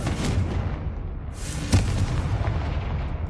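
A Confringo blasting-curse explosion in a wizard video game booms with a deep, sustained rumble, then a second sharp blast hits near the middle and fades into a low roar.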